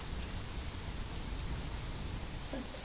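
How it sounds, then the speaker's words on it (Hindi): Steady rain falls in a dense, even hiss with no breaks, fairly soft and continuous, with no voices. "बारिश में हाथ कर, बारिश में देख।"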